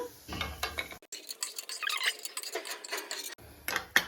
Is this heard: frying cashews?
yes